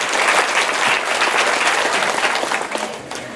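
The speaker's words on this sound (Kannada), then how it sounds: "ಆ ಸಂತೋಷಕ್ಕೆ ನೀವು ನಿಮಗೋಸ್ಕರ ಚಪ್ಪಾಳೆ ಹಾಕೊಳ್ಳೇಬೇಕು ಅಂತ ನಾನು ಕೇಳ್ತಾ ಇದ್ದೇನೆ" An audience at a Women's Day event applauding, dense continuous clapping from many hands throughout, loud and close, tapering slightly at the end.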